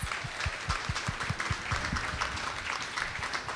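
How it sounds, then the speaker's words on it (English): Audience applause for the panelists at a feminist conference panel, fairly quiet and steady, with individual claps clearly audible within a continuous patter. "Can we get a round of applause for the amazing panelists?"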